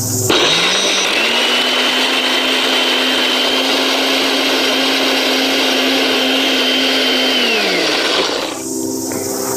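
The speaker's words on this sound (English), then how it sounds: "So now I'm going to blend the almonds" A loud, low-powered blender grinds almonds into nut flour, whirring steadily for about eight seconds with a constant motor whine and gritty grinding, then winds down and stops.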